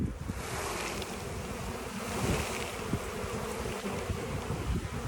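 Honey bees shaken off a hive frame in front of a weak colony's hive, a dense steady buzzing swarm sound close by, with outdoor wind rustle throughout and no talking.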